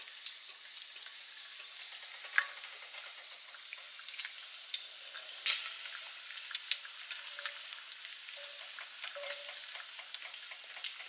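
Bacon fries in a cast iron pan with a soft, steady sizzle, punctuated by sharp pops and crackles at irregular intervals, close and fairly quiet, with no talking.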